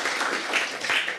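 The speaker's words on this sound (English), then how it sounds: "Yes, clap to that." A studio audience at a book talk on The Korean Vegan claps briefly, a soft, steady patter of many hands held at moderate loudness for just over a second.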